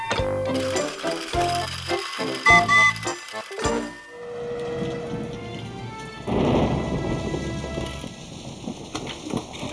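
A cartoon thunderstorm: heavy rain pours steadily while loud thunder cracks and rumbles, with a music-like opening fading into the roaring downpour and a second thunder surge midway; no talking.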